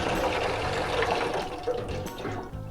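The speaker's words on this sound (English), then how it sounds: "And then it's going to go to the rinse side. You're going to rinse." Running water rinses dishes in a sink in a shelter kitchen, a steady splashing stream that stays loud throughout, with no talking.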